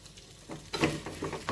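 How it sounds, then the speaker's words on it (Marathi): Sweet potato slices fry in a kadhai, with a steady sizzle and scraping stirs that grow louder partway through. "आता याच्यामध्येच मी जरा अधूनमधून हलवत ह्या चकत्या मऊ होईपर्यंत शिजवून घेणार आहे"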